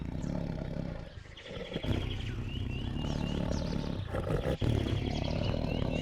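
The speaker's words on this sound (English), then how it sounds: "Marking territory with urine and with the unmistakable sound of their roars." Male lions roar in the African savanna while patrolling and marking territory, their deep calls rumbling continuously at moderate distance, with chirping birds faintly audible over the low growls.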